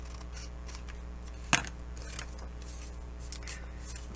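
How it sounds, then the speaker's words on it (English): Scissors trim a piece of card for a trifold journal with one sharp, clear snip, followed by a few faint rustles, over a steady low hum. "Just trim it with your scissors."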